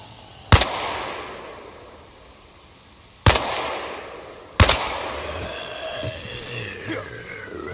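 Three sharp, loud gunshots in DayZ Reforged ring out one at a time with long gaps, each trailing into an echoing decay, followed by quieter rustling and low background noise.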